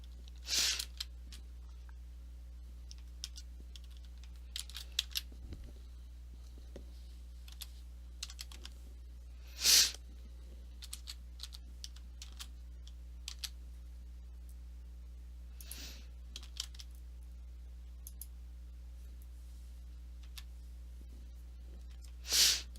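A password is typed on a computer keyboard as a few sparse, faint keystrokes and occasional louder clacks over a steady low hum in a quiet room.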